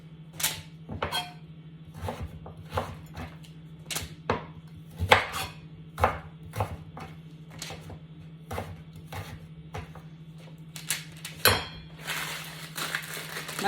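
A knife chops sweet potato into fingers on a board, giving a steady series of sharp, close knocks spaced roughly half a second to a second apart, with no talking.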